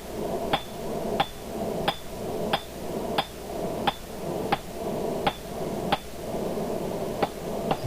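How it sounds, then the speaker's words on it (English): A hammer strikes a hot, thick steel bar on an anvil in about a dozen evenly spaced, ringing blows, each a sharp metallic clang. "the hammer is actually coming down half on, half off the anvil"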